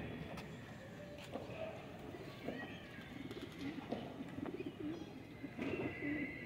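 Kamagar pigeons at a pigeon club coo softly, low faint throaty calls rising and falling against a dull background hum.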